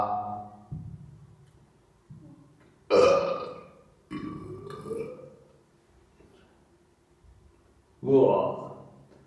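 A man lets out several loud, drawn-out burps after eating turkey salami, spaced a few seconds apart with quieter throaty sounds between them.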